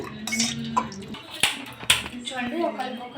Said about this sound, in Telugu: గిన్నె పెట్టుకోవాలి మందపాటిది అడి వంటకుండా ఉండడానికి